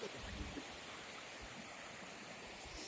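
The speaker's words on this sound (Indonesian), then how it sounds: "Ini sungainya." Broad, steady rushing of the Progo river flowing below a tourist spot in a village, with small water splashes near the bank and no speech.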